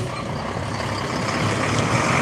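An old garbage truck works nearby, its engine rumble rising slightly toward the end, with a hint of hissing brakes or a faint beep above the low drone.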